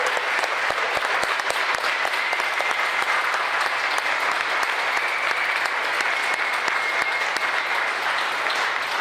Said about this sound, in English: I want to give a round of applause and thank our speakers, Pete and Zeena.